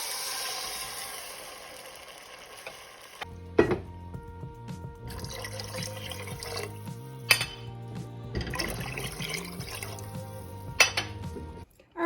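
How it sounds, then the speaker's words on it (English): Water poured from a tap into a soup pot, a steady rushing fill that changes pitch as the pot fills, interrupted by brief clanks of the pot, with no talking. "So let's add water"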